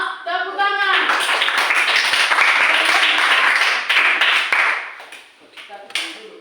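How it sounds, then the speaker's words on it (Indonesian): A classroom of children bursts into a burst of hand clapping, a loud, dense patter of many small hands that swells, holds, then tapers off, with voices mixed in. "Iya, tepuk tangan."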